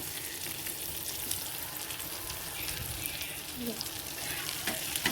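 Pieces of karli fish fry in plenty of oil, a steady crackling sizzle with occasional stirring scrapes and spits, moderately loud and continuous throughout with no talk.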